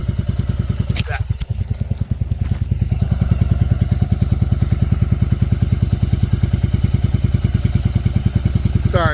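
A Yamaha Virago 750 chopper motorcycle engine idles steadily and close by after a high idle was fixed, a rapid even putter with a brief clatter and thump near the start.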